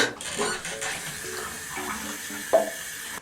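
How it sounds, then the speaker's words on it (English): Tap water runs into a cup at a bathroom sink, a soft steady trickle with faint clinks against the vessel and a brief louder splash near the end. "I'm gonna have to get new water in my cup."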